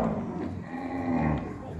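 A cow on a cattle farm lets out one long, low moo close by, with a rough steady tone lasting most of the moment amid farm background noise.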